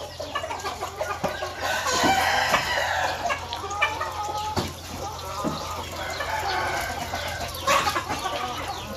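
Chickens cluck steadily close by while a rooster crows now and then among them, a busy, continuous poultry-yard chorus with no speech.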